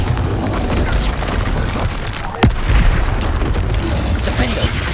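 A Bombarda spell explosion in the Hogwarts Legacy video game: one sharp blast near the midpoint over dense, loud game rumble and effects, with no spoken words alongside.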